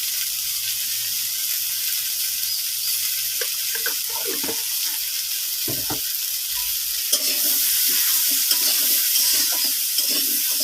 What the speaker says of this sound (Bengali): আর দিয়ে দিলাম হালকা একটু জল।